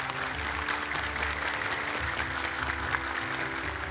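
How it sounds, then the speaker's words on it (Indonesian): Audience applause for children reciting Quran on an Indonesian televised hafiz competition, steady broadband clapping filling the whole stretch over low studio hum, with no talk. "Boleh tepuk tangan untuk mereka."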